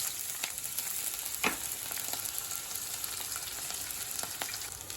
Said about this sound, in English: stir the onion for 1 to 2 minutes